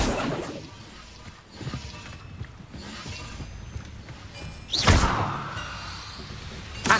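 The Accio summoning spell in Hogwarts Legacy sounds amid game noise: soft whooshing sweeps and clattering, then a sharp loud whoosh with a slam, followed by a fading rushing tail.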